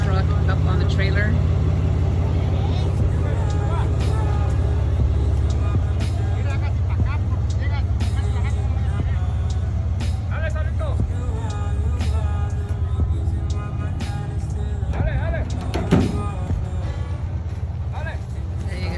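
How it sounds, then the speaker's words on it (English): A truck's engine rumbles steadily while it pulls a broken-down hotshot pickup up onto a trailer, with clanks and knocks scattered through it and people talking over it. "as that truck pulls it, it's going to pull our truck up on the trailer"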